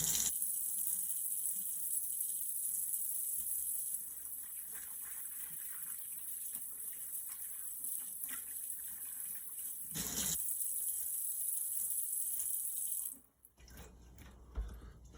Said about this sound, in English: Wash my hands. Really good.